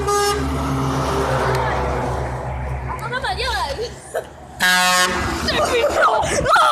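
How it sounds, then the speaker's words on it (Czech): A big truck's air horn blasts twice from close by on a road with passing trucks and a bus. The first blast is long and the second shorter, with a rumbling engine beneath and people shouting and talking between blasts. "To byl pravý troubeň!"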